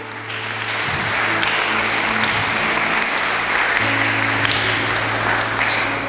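A church congregation applauds loudly and steadily during a sermon, a dense sustained wash of clapping with a low hum running underneath throughout.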